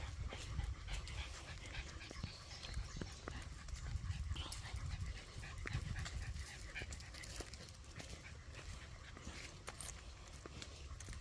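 Fred, an old dog out on a hike through Frontenac State Park after flooding, pants and huffs softly nearby in quick, faint breaths against quiet outdoor background.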